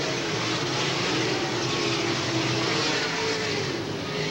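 USAC sprint cars race around the Eldora dirt oval close to a concrete wall, a steady broadband engine roar holding constant and loud throughout with no pauses.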